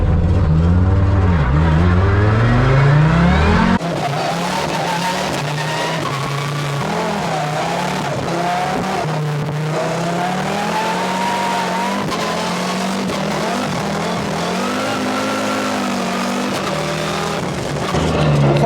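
Audi Quattro S1 E2 Group B rally car with turbo boost engaged, driven hard: a loud, continuous roaring engine climbing and falling through gear changes, with turbo whine and occasional tire noise, heard close from inside the car.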